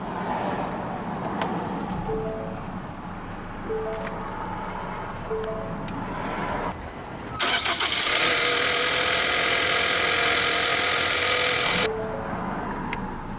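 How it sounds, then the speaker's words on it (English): A 2020 Ford Escape Titanium is push-button started inside the cabin: a quiet interior with a few chimes, then the engine cranks and catches with a loud surge, runs high for a few seconds, and settles to a steady, quieter idle. "let's go ahead and start the engine. And of course it has push-button ignition."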